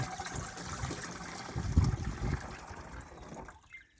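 Liquid splashing and trickling as a mixed solution is poured into a garden sprayer tank while treating plum trees against monilia rot; a steady close pour swells briefly midway, then tapers off into quiet.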